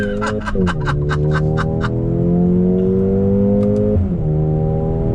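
A 2021 Mercedes-AMG GLA 35 SUV engine revs hard and climbs through the gears, with a brief shift dip midway, loud and close, with short clicking bursts early on.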